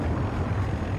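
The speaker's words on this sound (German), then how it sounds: "Jet über der Rakete." A jet streaks overhead above a rocket on a Battlefield 2042 battlefield, a broad, steady engine roar that fills the whole second, loud and close with no voices over it.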